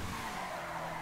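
A car skids and spins out during a race in GTA V, a steady, loud tire squeal and engine roar filling one second.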